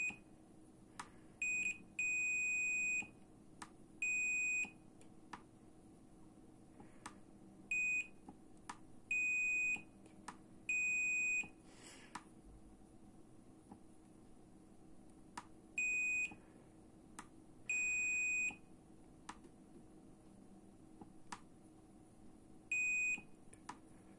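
A small electronic device emits sharp, high beeps in irregular bursts, some short and some held for about a second, over a low steady hum, while a button's resistance is being tested.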